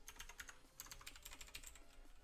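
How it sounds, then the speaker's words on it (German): A small mechanical keyboard is typed on steadily, giving rapid crisp clicking keystrokes at close range with no voices. "Ist jetzt nicht die größte Tastatur."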